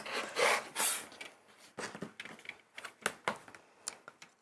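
Scissors cut through several thick layers of fabric for an appliqué cushion, making a string of close, crunchy snips and rasps with short gaps between them.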